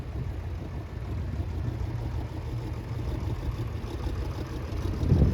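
A petrol TVO vintage tractor rolls past at a steam rally, its engine a steady low rumble that swells slightly toward the end, heard from a moderate distance among outdoor crowd noise.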